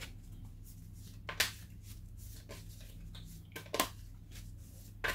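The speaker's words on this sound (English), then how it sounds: "I just like to shuffle the cards on camera" Tarot cards being shuffled by hand, heard as soft papery rustling with two sharper riffling bursts, fairly quiet and with no talking.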